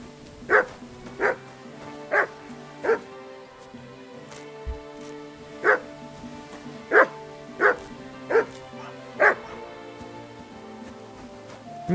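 A dog in the video game Kingdom Come: Deliverance II barks about ten times in evenly spaced single woofs, clear and fairly close, with quiet game ambience between barks.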